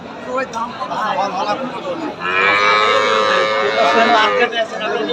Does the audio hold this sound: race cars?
no